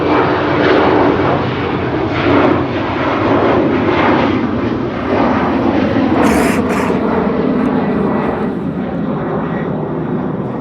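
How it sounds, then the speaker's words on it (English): An Embraer 190 jet rolling for takeoff at Amsterdam Schiphol, bound for Bremen, gives a loud, continuous engine roar with gently pulsing swells that stays strong for the whole stretch. "are they going to let the Embraer 190 to Bremen go ahead? Yeah, that's already rolling."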